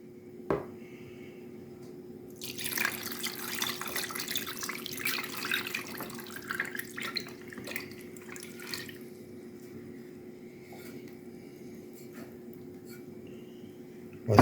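Cooled marinade poured over strips of silver carp packed in a container, a steady liquid splash and trickle running for several seconds before tapering off, close and fairly quiet with no talk.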